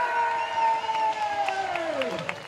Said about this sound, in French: je vous demande d'applaudir Alexandre Bouchec